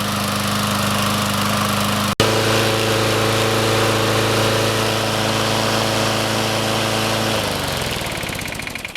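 Troy Bilt lawn mower with a Briggs & Stratton 6.5 HP engine runs steadily at close range, its even drone broken by a single sharp knock near the start, then the engine note drops and winds down toward the end.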